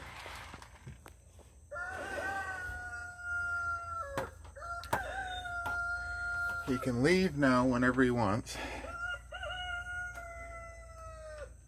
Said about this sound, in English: The roosters think that it's time to get up.